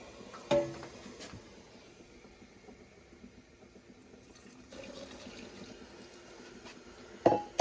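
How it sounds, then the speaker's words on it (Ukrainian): Hot water runs and trickles into a glass jar of cherry compote, quiet and intermittent, with a couple of sharp glassy clinks near the start and end. "тепер третю банку можна заливати гарячою водою"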